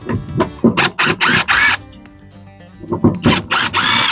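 A power drill removes screws from a tankless water heater, giving several short, loud whirring bursts with brief pauses between them, close to the listener and with no talk.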